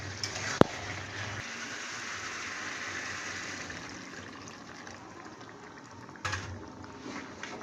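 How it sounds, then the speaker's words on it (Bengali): A small amount of water goes into a pot of braising meat and potato curry. A sharp clink comes first, then a broad rushing hiss of liquid hitting the hot pot that slowly fades, followed by a brief rattle near the end. "এবার আমি এতে অল্প পরিমাণে জল দিয়ে দেব"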